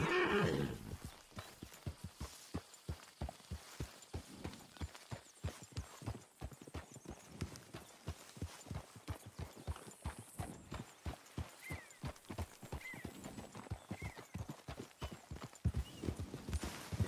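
A horse gallops in Red Dead Redemption 2 with steady, rapid clip-clop hoofbeats that run for many seconds. A whinny rises at the start and again near the end, loud and close, with no talking.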